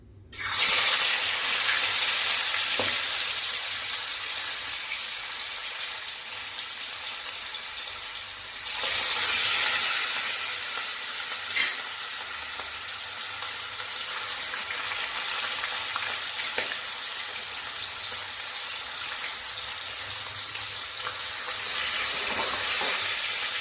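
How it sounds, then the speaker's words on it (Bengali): Pieces of katla fish frying in hot mustard oil in a kadai, a loud, steady sizzle and crackle that flares up sharply each time another piece goes in, then settles back into a constant hiss. "তেলটা ভালো মতো গরম হয়ে এসেছে এবার আমি মাছের পিসগুলো একে একে তেলের মধ্যে ছেড়ে দেবো"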